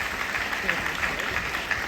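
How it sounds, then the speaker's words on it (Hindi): Audience applause at a recognition night training event in Ranchi, a short, steady burst of clapping from a hall crowd, with a voice faintly audible underneath. "एक जोरदार ताली आप सबके लिए"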